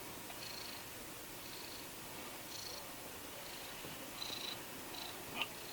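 A cat purrs steadily and softly at close range, a continuous low rumble with faint higher chirps over a constant background hiss, with no talking.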